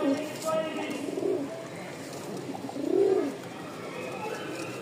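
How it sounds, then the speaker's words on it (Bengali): A pair of pigeons coos close by, with a couple of distinct rolling coo phrases, the second louder, over faint background noise. "দেখে নেন কবুতর জোড়াটা কেমন"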